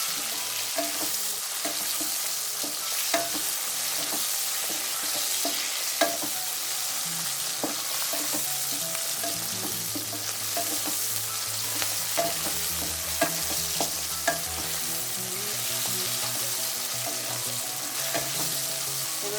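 Whole coriander seeds, cumin and mixed vegetables with softened onions and tomatoes are stirred in a frying pan for a Marathi mixed vegetable bhaji, with a steady sizzle and repeated scraping strokes throughout, and no talking.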